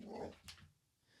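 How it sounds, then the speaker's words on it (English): A single short, faint dog bark or yip indoors, one quick muffled burst followed by near silence. "What was he barking at?"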